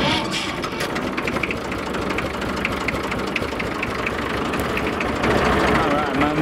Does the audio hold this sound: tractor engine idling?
yes